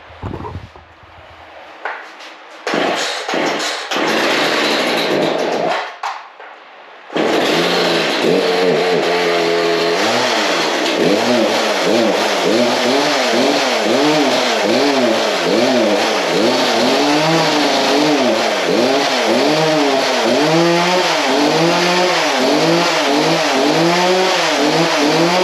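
Poulan chainsaw with a newly installed carburetor: a few short pull-start bursts and a pause, then the engine catches and runs loud and close, revving up and down in a repeating wavering pattern.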